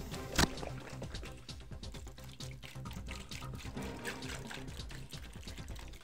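Almond milk poured onto tortilla chip cereal in a bowl, a close trickling, splashing pour with a sharp clink at the start and a steady liquid patter afterward.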